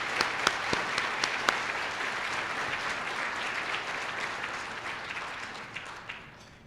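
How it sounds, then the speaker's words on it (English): Sustained applause from a large audience at an awards gala, with a few sharp claps standing out at the start, holding steady and then slowly tapering off. "Can you give a round of applause for our board of directors?"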